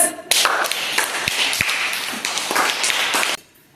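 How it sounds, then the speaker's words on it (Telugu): Children in a classroom at Winfield CBSE School clap together in a burst of quick, dense claps lasting about three seconds, close and loud, then stopping abruptly. "క్లాప్స్."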